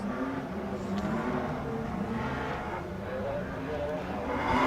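BMW drift car launching its run at a Drift France event in 2024, a dense engine roar with revving building steadily over a noisy crowd-and-track background, fairly distant and continuous.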